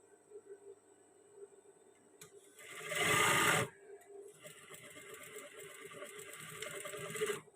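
An electric sewing machine stitches the seam of a batik garment, its rapid mechanical whirr running in short bursts and rising to a loud, steady run in the middle, close up with no speech.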